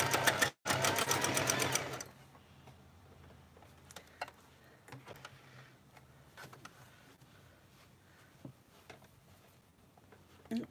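A sewing machine runs in a loud, rapid burst of stitching for about two seconds, pauses very briefly, then stops, leaving quiet scattered clicks and faint handling noises with a little low talk.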